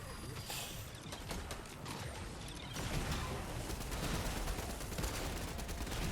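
Gunfire in the video game Fortnite rattles in dense, rapid bursts with mechanical clatter throughout, growing louder and busier in the second half; people talk intermittently underneath.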